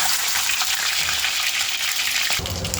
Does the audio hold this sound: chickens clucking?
no